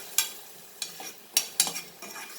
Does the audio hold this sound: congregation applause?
no